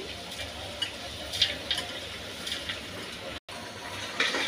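Rice and lentils are stirred into meat frying in spices, giving a soft, steady sizzle with light scraping and occasional clinks of the spoon against the pot, close up, with one brief dropout.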